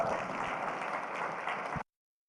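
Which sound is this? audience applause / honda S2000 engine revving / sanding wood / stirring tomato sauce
audience applause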